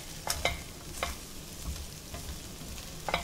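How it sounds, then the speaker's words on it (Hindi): Vermicelli pulao with vegetables is stirred in a pan to mix in chaat masala, clear spoon clinks and scrapes at irregular intervals over a low sizzle, with no voices. "इसको मिक्स करेंगे चाट मसाले को अच्छे से।"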